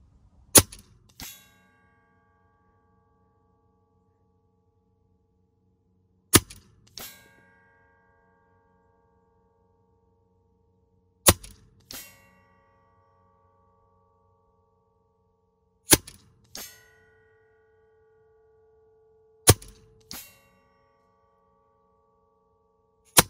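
Edgun .30 caliber air rifle fired repeatedly at a target, each sharp shot followed moments later by a ringing metallic clang, about five shot-and-clang pairs spaced several seconds apart, with quiet between.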